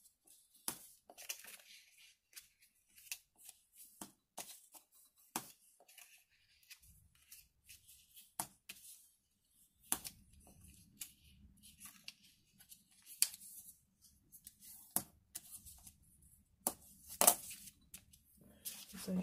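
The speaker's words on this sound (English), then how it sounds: "So now we're just gonna put them into place and crease them down. Give them a good burnish." Card stock pleats are creased and burnished by hand, a series of sharp scraping and rubbing strokes in irregular bursts, close and quiet, with a faint low hum joining partway through.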